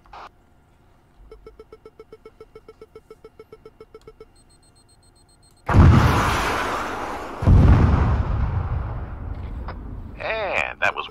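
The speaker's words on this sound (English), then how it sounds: "by a guided droid rocket" A guided droid rocket explodes in a video game with a loud, sudden blast that rumbles on and is followed by a second heavy burst, after a run of quiet rhythmic beeping.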